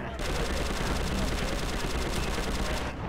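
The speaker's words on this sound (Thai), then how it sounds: "ยกปืนขึ้นมาฮะ เล็งฮะ ยิงแม่งฮะ" Rapid automatic gunfire from aiming and firing a gun in Prototype 2, a loud continuous stream of evenly spaced shots lasting about three seconds before cutting off abruptly.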